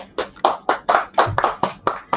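Hands clap in an online meeting with about nine quick, evenly spaced claps over roughly two seconds, close and fairly crisp, with no talking.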